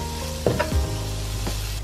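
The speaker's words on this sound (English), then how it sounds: "Add in the green onions." Green onions going into a hot pan while cooking mapo tofu, with a burst of sizzle and a quick stir that settles into a steady low frying hiss, close and alone.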